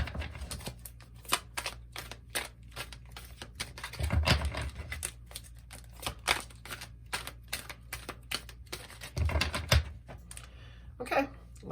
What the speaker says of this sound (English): let's reshuffle a little bit and then get into it.